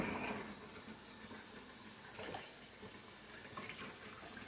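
Tap water runs steadily into a sink while tie-dye T-shirts are rinsed of excess dye, a close, fairly quiet rushing flow with occasional splashy swells as the fabric is moved under the stream.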